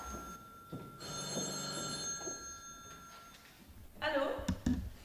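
A telephone bell rings in an indoor room for a few seconds, steady and fairly close, then stops as a voice speaks briefly.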